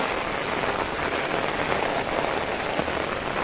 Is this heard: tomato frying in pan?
no